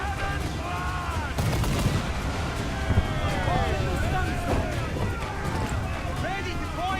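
Broadside cannons fire from a ship in Assassin's Creed IV: Black Flag, a rapid run of sharp booming shots over a busy battle din, with voices calling out throughout.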